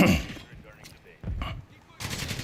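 Gunfire in Call of Duty Modern Warfare III: a few close bursts of shots cutting in and out across the short stretch, with game sounds between them.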